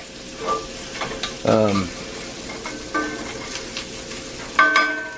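Chicken fried sausage frying in a cast iron pan, a soft steady sizzle under scattered scraping and clinking, with brief bursts of voice between.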